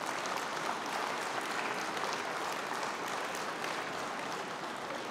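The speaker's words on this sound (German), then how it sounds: "Applaus" Steady applause from a party-congress audience fills the hall after a treasurer candidate's nomination speech, dense and even throughout with no voices rising above it.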